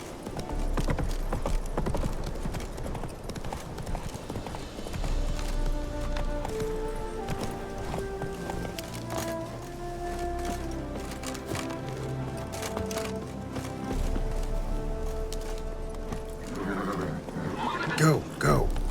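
Roach the horse gallops in The Witcher 3: Wild Hunt, with steady hoof clip-clops and a whinny under a sustained orchestral game score, while a man urges the horse on between the hoofbeats.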